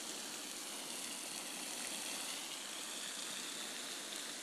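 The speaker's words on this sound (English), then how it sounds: "We are standing behind a waterfall, which is so cool." Water from a waterfall rushes in a continuous, dense hiss heard from a spot behind the falling sheet, a steady wash of noise with no breaks and no voices.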